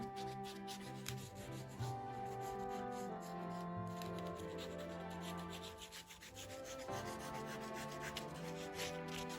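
Paper edges being trimmed for a handmade December journal produce close, continuous scraping and rubbing sounds with uneven strokes, quiet and unaccompanied by talk.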